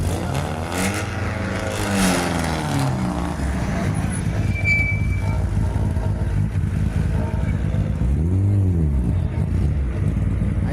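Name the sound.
rally cars revving their engines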